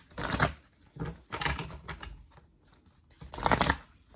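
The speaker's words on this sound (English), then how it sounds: "Let me shuffle these." A deck of tarot cards is shuffled by hand, soft papery riffles and slaps in several bursts, close and fairly quiet, with no talking.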